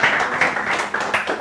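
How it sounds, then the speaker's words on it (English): An audience claps for a speaker at a debate on godfatherism, a brief burst of dense, steady clapping from a crowd nearby. "A round of applause again."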